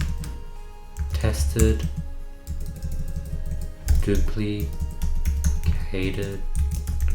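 Typing on a computer keyboard in short clattering bursts of keystrokes, heard under someone talking steadily.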